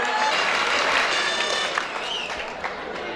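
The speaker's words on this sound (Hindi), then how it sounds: "जोरदार तालियां होनी चाहिए" Audience applause at a college gathering, a dense steady wash of clapping from many hands that holds loud and even throughout before easing slightly near the end.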